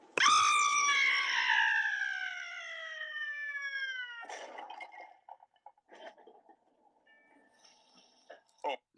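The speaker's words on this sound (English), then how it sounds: "Her screaming and crashing through, and you hear debris fall too." A woman's scream rings out loud and sustained for about four seconds, followed by a crash and scattered small thuds and rattles of falling debris trailing off into quieter bits.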